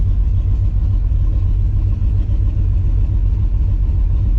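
An LS-swapped Chevrolet Chevette rumbles past close by, a loud, deep, steady engine drone that stays strong throughout with no talk over it.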